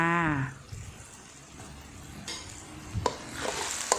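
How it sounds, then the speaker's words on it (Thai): Red curry paste with a little water is stir-fried in a pan: a low, moist sizzle with scattered stirring scrapes and a couple of sharper clinks, after a brief tonal sound at the start. "เคี่ยวเครื่องแกงให้หอมแบบนี้เลย"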